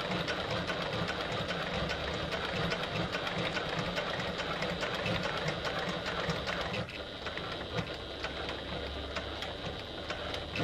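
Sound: Janome HD9 sewing machine stitching

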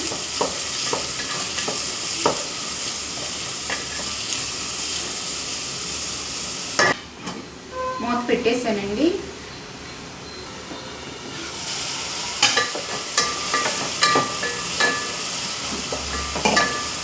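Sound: mixing ingredients for fish curry in a pan

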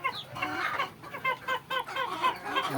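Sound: chickens clucking

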